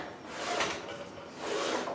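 A wooden drawer slides along dado-groove runners cut into the plywood of a router table, giving two soft, quiet rubbing scrapes as it is pushed and pulled.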